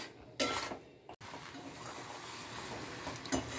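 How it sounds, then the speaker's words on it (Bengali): Spices being stirred into jaggery in a pot for kul (jujube) pickle, with a spoon scraping and clinking against the metal in a steady rhythm, close by and moderately loud. "দিয়ে কিন্তু আমি এটা গুড়ের সঙ্গে ভালো করে মেশাতে"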